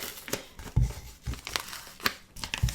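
Transfer tape is peeled from its roll in a few quick crinkling, tearing bursts, close and fairly quiet, with rustling between the pulls.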